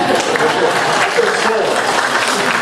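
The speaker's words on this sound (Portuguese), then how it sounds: "Salva de palmas para Ana Mari" A church audience gives a round of applause for Ana Mari, a thick continuous wash of clapping with crowd noise and voices mixed in over its short span.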